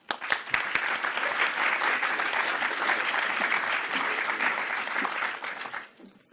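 A conference audience applauds to welcome a university chancellor onstage, with sustained dense clapping that fills the room. The clapping begins with a few sharp claps, stays steady and loud for about five seconds, then fades out.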